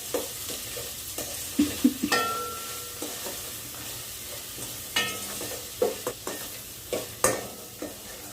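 Onions and tomato with ginger-garlic paste fry and sizzle in a pan for chicken pulao, a spoon stirring and scraping now and then in short clanks over a steady close hiss, with no talking.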